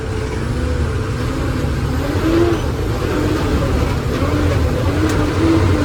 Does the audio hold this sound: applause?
no